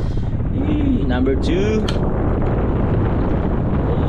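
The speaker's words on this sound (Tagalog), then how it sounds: "Lakas ng hangin ah." Strong wind blowing around a nipa hut (kubo), a loud, steady roar buffeting the microphone for the whole stretch, with a few brief voices over it.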